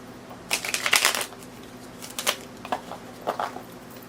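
Tarot cards gathered and shuffled by hand, a close papery flurry of riffles followed by a few shorter shuffling bursts, moderately loud against a faint low hum.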